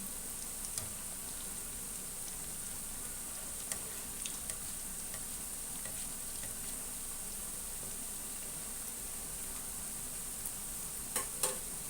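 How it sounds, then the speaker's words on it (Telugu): Ajwain chegodi rings fry in oil over a low flame, giving a faint, steady sizzling hiss broken by scattered small pops and crackles. "ఇవి సిమ్లో పెట్టుకుని వేయించుకోవాలండి."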